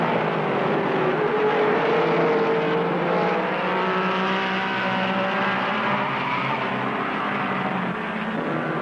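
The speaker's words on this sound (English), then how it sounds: "The whole field is strung out behind him in a magnificent array of some of the finest sports cars in the world." A field of sports cars, Ferraris among them, races around a road circuit with hairpin turns, engines roaring loudly and steadily as several cars blend into one sustained, droning wail.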